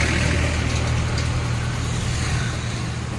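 Steady road traffic rumble heard from a motorbike on a road toward Bodh Gaya, a broad constant engine and wind wash with low idling vehicles nearby, loud and unbroken, with no speech.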